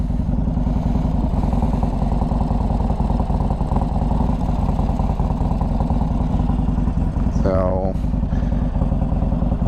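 Motorcycle fitted with an S&S 124 engine, Vance and Hines header and Carl Foss Racing exhaust runs with a loud, deep, continuous throb close by, briefly joined by a short voice near the end.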